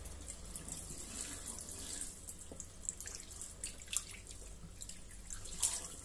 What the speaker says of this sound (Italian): così potete vedere se esce ancora acqua bianca. Deve uscire trasparente.